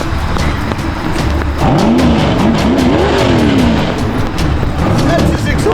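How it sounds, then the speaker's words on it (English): Car engine revving loudly through its exhaust, a steady roaring drone with rising and falling engine tones, heard alongside voices talking. "That's his exhaust."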